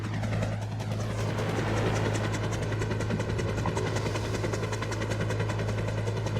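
A helicopter engine in the Roblox video game drones loudly and steadily with a continuous low hum and rotor throb, close and constant throughout, without talk.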